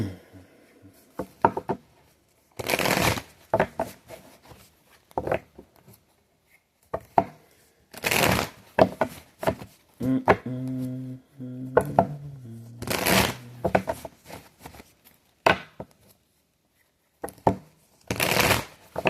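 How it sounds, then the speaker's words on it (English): Several bursts of tarot cards being shuffled, crisp riffling rushes separated by pauses, with a cascading riffle and bridge in the middle. "One more shuffle"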